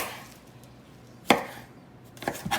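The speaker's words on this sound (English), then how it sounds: "I have the broccoli washed. What I'm gonna do is I'm gonna start cutting spears." A knife cuts washed broccoli into spears, giving one sharp chop followed by a few softer cuts a second later, close and quiet in an otherwise still kitchen.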